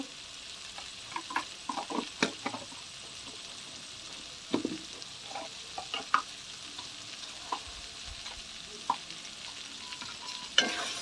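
Spices fry in a pan for a meat curry while a spatula stirs and scrapes, giving irregular scraping knocks over a steady close sizzle, with no voices.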